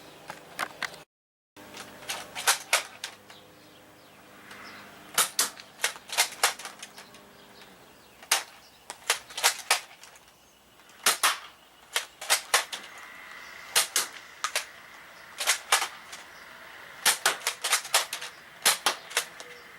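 A Nerf blaster from a toy foam-dart arsenal fires repeatedly with its flywheels spun up, giving sharp snapping clicks in quick bursts and scattered single shots, close and fairly loud, with no talking.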